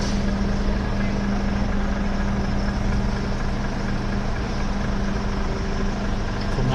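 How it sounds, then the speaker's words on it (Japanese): Crane truck and truck doing coupling work beside a street at night in Otemachi, heard as a steady low engine drone with a continuous hum, loud and unbroken. "今横でクレーン車とトラックで連結作業が"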